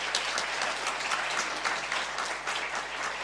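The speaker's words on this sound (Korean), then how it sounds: "박수를 한번 하겠습니다." A church congregation at a Sunday worship service claps steadily together, a dense, even wash of applause that holds at moderate loudness for a few seconds with no voices over it.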